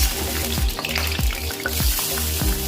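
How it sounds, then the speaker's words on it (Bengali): Cauliflower florets frying in hot oil, a loud continuous sizzle close up with a rhythmic clack of stirring about every half second. "ফুলগুলোকে মোটামুটি ভাজবো খেয়াল রাখবো যাতে ফুলগুলো খুব বেশি লাল না হয়ে"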